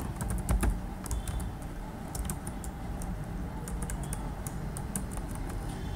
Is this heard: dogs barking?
no